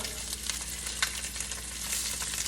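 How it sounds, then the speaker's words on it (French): Food sizzling and frying steadily in a pan, a close, continuous crackle with a few louder pops and no voices. "Je ne veux pas les faire complètement rôtir, je veux juste qu'elles aient une petite couleur, là."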